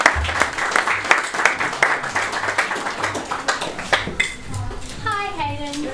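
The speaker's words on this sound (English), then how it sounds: "please give a warm round of applause for Cassie" An audience at a faith talk gives warm applause, a dense patter of clapping that thins toward the end as a faint voice and a brief tonal sound come through.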